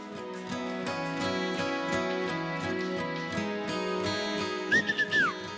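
A brief whistle of a few sliding notes comes near the end, over steady music that plays throughout on a talent show stage.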